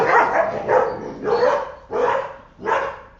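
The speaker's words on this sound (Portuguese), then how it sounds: "os cachorros quiseram orar junto, fazer barulho junto" Dogs bark in a run of about five loud, close, evenly spaced bursts, each a cluster of rough barks, with no talking over them.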